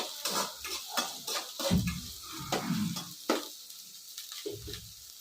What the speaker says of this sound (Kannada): ಚೆನ್ನಾಗಿ ಸ್ವಲ್ಪ ಫ್ರೈ ಆಗ್ತಿದ್ದಂಗೆ